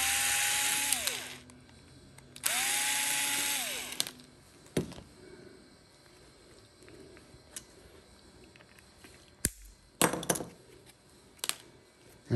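Electric carving knife housing being taken apart with a power screwdriver: two short whirring drill bursts up front, then quieter clicks, a clattering screw drop and handling knocks near the microphone.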